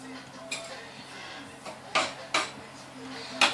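Chopped onion slid into a bowl of mashed guacamole and stirred, a few close, sharp utensil scrapes and clinks against the bowl over a quiet kitchen background.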